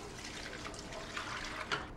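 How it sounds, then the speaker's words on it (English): Water drains from a pot during mozzarella making, a steady soft rush and splash with a few louder sloshes near the end and no talking. "We're gonna drain the water."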